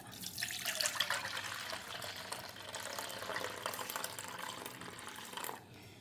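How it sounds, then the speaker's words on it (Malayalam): Settled top water being poured off a container in a home kitchen, a steady close pouring and splashing flow that holds for several seconds, then stops abruptly near the end. "അധികം അനക്കാതെ മേലത്തെ വെള്ളം ഇങ്ങോട്ട് ഊറ്റിയെടുക്കുക."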